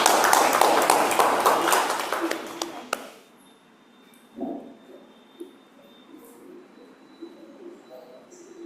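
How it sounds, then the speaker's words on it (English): Applause at a club meeting, a dense burst of clapping for about three seconds that stops abruptly, followed by quiet room noise with a few faint sounds. "can you give him a huge round of applause?"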